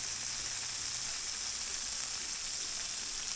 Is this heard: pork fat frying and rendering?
yes